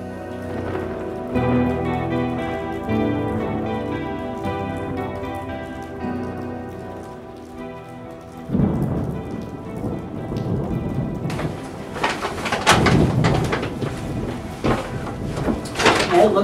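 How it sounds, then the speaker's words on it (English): Steady rain and rumbling thunder from a wet Christmas-day storm, a continuous wash of downpour that swells louder and denser in the second half. "Looks like we're gonna have a wet Christmas."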